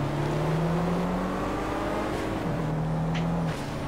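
Renault Mégane engine in the Project Cars racing game, a loud, close, droning engine whose pitch holds, dips briefly and climbs again as the car drives on, no voices.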